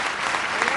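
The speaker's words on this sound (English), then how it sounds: "applauding for the new nominee for the Supreme Court, Elena Kagan, Solicitor General" White House staff and family members in the East Room applaud the newly announced Supreme Court nominee, Solicitor General Elena Kagan, a brief, steady burst of close, dense clapping.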